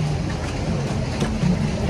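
A boat ride on the Tungabhadra dam carries a steady low engine drone and water rush, with voices mixed in close by.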